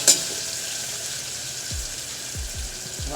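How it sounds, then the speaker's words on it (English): Garlic sautés in hot oil over a high-BTU burner, a continuous bright sizzle and crackle, close and steady, with a few soft low thuds near the end. "when we're sauteing, we want to hear things hit the oil and cook"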